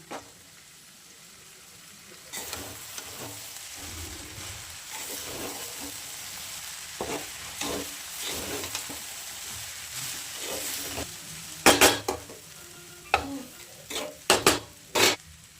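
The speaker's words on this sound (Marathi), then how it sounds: "शाबू टाकून घेऊया, भिजवलेला शाबू टाकून घेऊया" Soaked sabudana for a sabudana khichdi being stirred in a pan over a faint sizzle, with intermittent spoon scrapes and clinks against the metal that grow sharper and louder toward the end.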